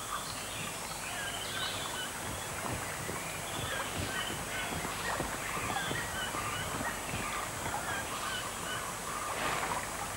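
Hoatzins calling in a flooded forest, harsh honking and wheezy croaks repeating from several birds over a steady wash of ambient forest noise, mid-distance and continuous.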